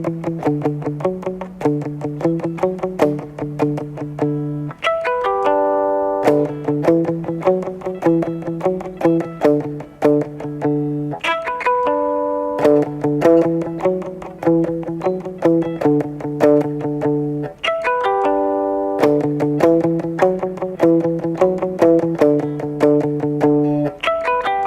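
Electric guitar plays a song's bridge riff with chiming harmonics, a repeating picked phrase in steady cycles of low notes answered by higher ringing harmonics, clean and loud with no voices.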